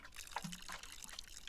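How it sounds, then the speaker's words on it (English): Watering a Brook Chalice plant in the video game Botany Manor: a short, soft splash and trickle of poured water with faint droplet sounds, quiet and brief, with no talking. "Let's water it."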